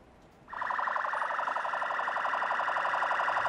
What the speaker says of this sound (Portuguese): A sirene alertou, tem vazamento de gás natural.